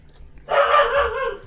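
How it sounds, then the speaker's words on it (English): A dog barking indoors: a single drawn-out, high-pitched bark or yelp, fairly close and loud, heard alone. "Oh, the dog's trying to bark at something."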